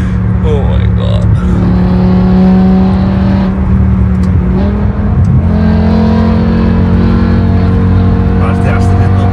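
A 2006 BMW M5 with its V10 engine pulls hard from inside the cabin, a loud, steady drone that climbs in places, with voices talking over it throughout.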